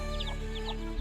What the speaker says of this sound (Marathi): सगळ्याच कोंबड्या आता वाटीमधलं सगळं खाऊन दिली